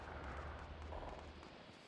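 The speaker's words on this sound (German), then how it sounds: "ich höre Schüsse" Gunfire in the game Fortnite, a muffled, rumbling burst of distant shots under a dense continuous wash of background noise.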